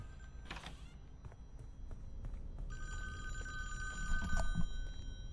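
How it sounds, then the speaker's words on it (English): Telephone ringing inside a cabin in the Friday the 13th video game, a bright electronic bell ring that starts partway through and rings steadily over low ambient rumble and a few thumps. "this is going to cause a phone to ring here, I think, as well as downstairs."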